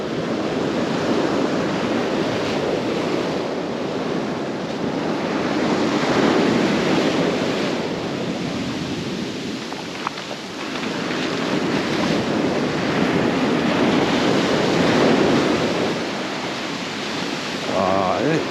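Sea waves wash steadily onto a beach in a loud, continuous roar of surf that swells and ebbs, with gusty wind buffeting the microphone throughout.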